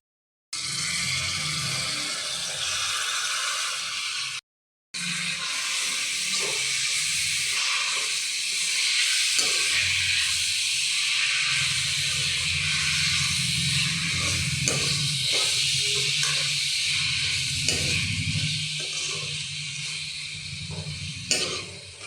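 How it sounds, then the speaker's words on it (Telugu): Onions fry in a pan over a medium flame with a steady, hissing sizzle that runs continuously apart from a brief gap, joined later by faint, irregular stirring scrapes. "స్టవ్ని మీడియం ఫ్లేమ్లో పెట్టుకొని ఇలా వీటిని ఫ్రై చేస్తూ ఉండాలి"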